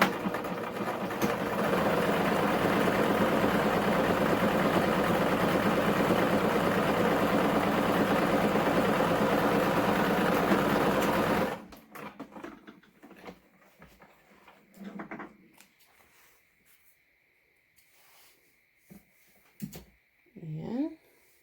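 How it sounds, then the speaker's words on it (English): A sewing machine top-stitches along the edge of a fabric face mask, a steady loud motor whir running continuously for about eleven seconds before stopping, followed by quieter handling sounds. "we're just going to do a top stitch all the way down"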